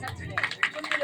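Brief burst of audience applause at a Mata Rani jagran gathering in Mathura, several scattered claps rising after a quiet start, with talk and background murmur around it.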